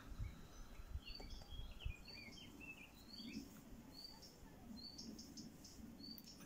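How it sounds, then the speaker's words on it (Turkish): Faint bird chirps repeat in quick, high bursts across a quiet outdoor background, with a few soft low thumps early on. "Kuş sesleri"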